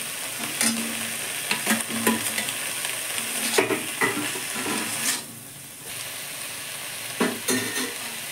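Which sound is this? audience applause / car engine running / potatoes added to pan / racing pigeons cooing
potatoes added to pan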